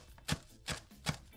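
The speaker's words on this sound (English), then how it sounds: "I cut them in small bits because remember you're stuffing your fish," A knife chops callaloo into small bits on a board with three distinct, evenly spaced thuds, close and fairly soft, preparing a stuffing for roast fish.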